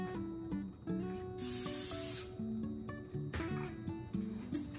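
Two short bursts of cooking spray hiss onto plastic wrap over background music, each lasting about a second, close by.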